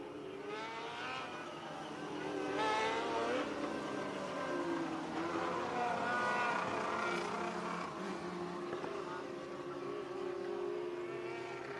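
Race cars on the Marion County Speedway dirt track make a loud, steady engine roar. Several engines rise and fall together for the length of the clip, with no one talking.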